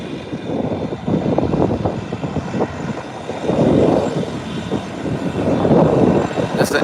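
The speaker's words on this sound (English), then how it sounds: "That's the Embraer 120." An Embraer 120 turboprop passes overhead on its approach. A continuous propeller drone swells and fades in waves, fairly loud and sounding moderately distant, and no voices are heard.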